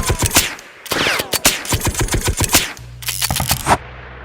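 Rapid automatic gunfire in the video game PUBG, dense bursts of sharp cracking shots close and loud, with a low engine-like hum under the final second.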